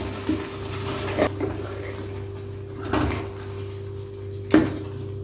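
A spoon stirring thick urad dal halwa with ghee in a kadai, giving three or four sharp scraping knocks against the pan at irregular intervals over a low steady background hum.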